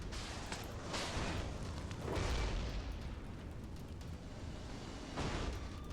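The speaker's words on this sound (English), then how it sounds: "Follow-up missile strike." Missile strike explosions in the space combat game Nebulous: Fleet Command: a dense, continuous roar of heavy booms with several stronger bursts rising out of it, loud and rumbling throughout.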